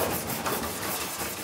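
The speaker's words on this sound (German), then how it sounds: "Mit der Hand schleift er die Klinge weiter und weiter." A knifemaker grinds a kitchen knife blade by hand in a workshop, producing a close, continuous abrasive rubbing and scraping with slight rhythmic swells over a brief stretch.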